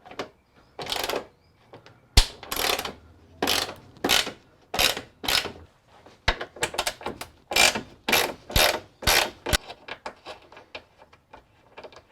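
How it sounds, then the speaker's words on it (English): A ratchet undoing 10mm bolts on a Ford Falcon front bumper, heard as a dozen close, loud bursts of rapid clicking separated by short pauses. "I've got 2 8mm bolts. So let me just undo those. 10mm bolts."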